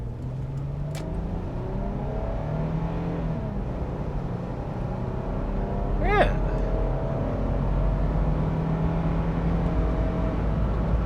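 A 2000s Infiniti QX4 SUV engine pulls smoothly under moderate acceleration, a steady, fairly quiet drone heard from inside the cabin with road rumble, rising slightly toward the end.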